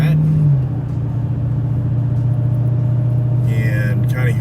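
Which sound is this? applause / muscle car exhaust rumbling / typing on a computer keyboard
muscle car exhaust rumbling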